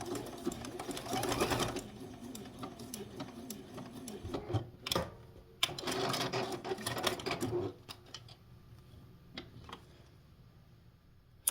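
A sewing machine stitches ribbon onto a small vintage quilt Christmas ornament, whirring in two close bursts of a few seconds each, then stopping, with scattered clicks and handling noise afterward.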